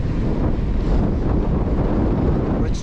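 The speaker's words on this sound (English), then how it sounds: "Yep, the headwind has found me." A strong headwind roars across the microphone of a cyclist out on a ride, a loud and steady low rumble with no voices over it.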